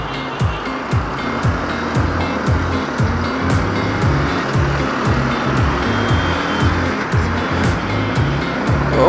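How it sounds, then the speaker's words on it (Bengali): A rideshare motorbike accelerates hard through traffic in Bangladesh, a loud close engine drone with rapid pulsing rhythm and rushing wind noise that stays steady throughout. "জোরে পিক আপ মারলাম গাড়ি একদম ভুম করে চলে আসলো"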